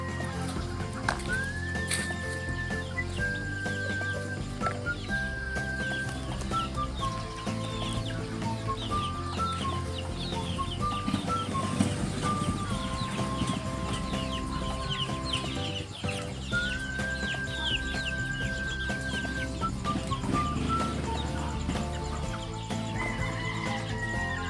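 Game fowl chicks peep continuously in a dense, high-pitched chorus that runs throughout, close and steady, with no one speaking.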